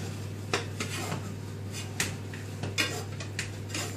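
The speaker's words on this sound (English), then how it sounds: "A pancake's not one that you have to scrape out of a pan, is it?" A pancake stuck to an unoiled pan is scraped repeatedly with a utensil, giving a series of quiet metallic scrapes and clinks at irregular intervals, with no talking.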